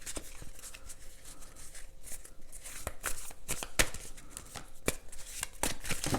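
Tarot cards are shuffled by hand in a quiet room, with soft continuous riffling and sharp intermittent card snaps at moderate volume.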